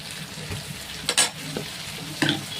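Prawns fry in a pan, a soft continuous sizzle broken by a few sharp spatters and stirring scrapes, close and alone without talk.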